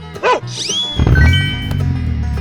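A cartoonish dog bark from a 3D animal slide game rings out in a couple of quick yelps, followed by a rising, whooshing game effect and a sustained tonal chime, all loud and close with no talking.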